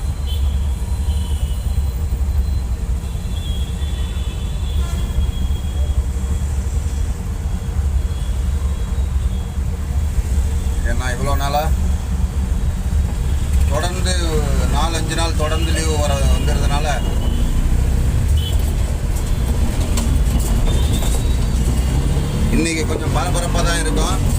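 Busy road traffic near Alappakkam and Valasaravakkam, with many vehicles rumbling past in a constant loud engine drone close by. Someone talks over it at times.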